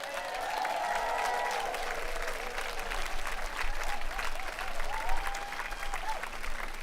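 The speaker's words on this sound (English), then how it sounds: "let's just give everybody a big round of applause" Crowd applause rolls on steadily at a park event, clapping for runners coming off their laps in a 24-hour relay, with scattered whoops and cheers above the dense clapping.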